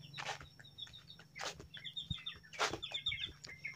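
Chickens in a backyard coop cluck and chirp softly at a middle distance, scattered short calls with a few sharper rustling bursts over a low steady hum.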